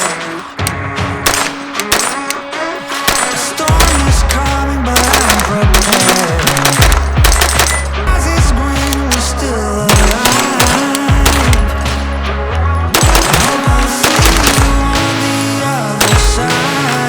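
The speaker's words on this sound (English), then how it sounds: "after the first mag, I was very surprised on how balanced that this gun shoots" Rapid strings of 9mm shots from a PSA AKV pistol at a shooting range, loud and close, firing in quick bursts with brief pauses between volleys.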